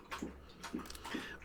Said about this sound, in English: Excuse my dog drinking really loudly.